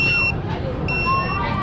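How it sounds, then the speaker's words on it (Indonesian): In a busy Farm Fresh restaurant at UPM Serdang, a thin electronic pager buzzer sounds in short bursts, fairly close, over chatter and background voices. "Kita tunggu buzzer ni bunyi."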